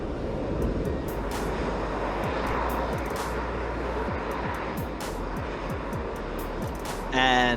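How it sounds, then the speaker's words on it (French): A cluster of SpaceX Raptor rocket engines undergoing a spin prime test, heard as a sustained broadband roar and rush from a distance, with intermittent sharp crackles and a brief louder burst near the end. "That was what looks to be a spin prime test of a lot of engines."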